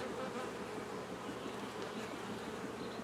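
Honey bees buzz inside an open hive around a newly hatched queen, a dense and even drone of many wings at close range that holds steady throughout and stays fairly quiet, with no talking.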